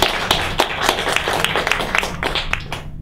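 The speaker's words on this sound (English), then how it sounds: "please give yourselves a round of applause" Scattered applause from a small audience at a community peacemaker gathering, sparse distinct claps over a steady room hum, fading out at the end.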